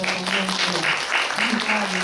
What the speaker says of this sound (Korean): 두 분 박수 좀 부탁드립니다